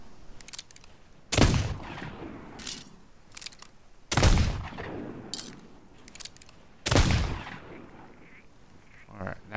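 Three heavy flintlock pistol shots in Sea of Thieves boom out at roughly even intervals, each with a sharp crack and a rumbling tail, while faint game ambience fills the gaps.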